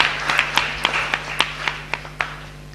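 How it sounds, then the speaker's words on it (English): Sparse clapping at an online academic conference for the session's speakers, a handful of distinct claps in loose rhythm over a steady low electrical hum, fairly close and thin. "please give one more huge applause for all of the"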